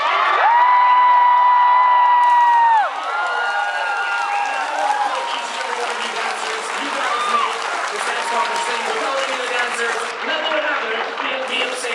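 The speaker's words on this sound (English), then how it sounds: "I want to hear one last round of applause for every single dancer on stage." An audience at a dance competition stage show applauds and cheers for the dancers, with whoops and crowd noise building over a sustained tonal sound at the start, continuing loudly throughout.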